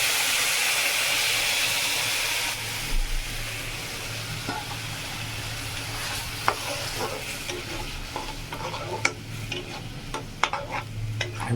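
Coconut water tipped into a frying mustard sauce for prawns hisses with a loud rush, then settles into a softer sizzle and bubbling simmer with occasional clicks of a spoon against the pan.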